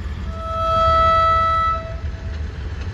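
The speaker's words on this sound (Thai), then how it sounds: "ขบวนรถด่วนพิเศษที่13นะครับผมกรุงเทพไปทางสถานีเชียงใหม่นะฮะ" A train horn sounds one long, steady toot over low rumbling station ambience at Bangkok's Hua Lamphong railway station, where the express train 13 bound for Chiang Mai stands on the platform.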